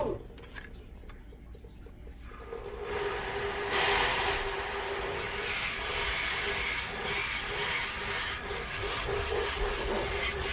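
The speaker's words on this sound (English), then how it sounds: "Rinse all that grime off. All that pond dirt." Running water from a tap rinses pond grime and dirt off an Alcatel phone, a steady close hiss and splash that swells after a quieter start and continues without pause, with no talking.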